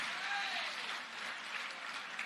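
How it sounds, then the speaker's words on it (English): Crowd applause for a fighter at a boxing promotion event fills a hall, a dense, steady wash of clapping that tapers slightly midway and then continues. "Give him a round of applause, everyone."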